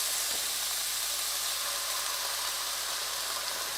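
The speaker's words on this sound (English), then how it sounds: "to that, we're going to add the soy sauce" Soy sauce hits onions and peppers sizzling in a pan for Dominican chofan fried rice, producing a steady, close, broadband hiss that holds evenly throughout with no talking.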